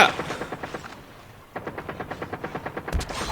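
Automatic gunfire in Call of Duty Mobile battle royale: a short burst, a brief pause, then a steady rapid string of evenly spaced shots, close and loud, with no talk.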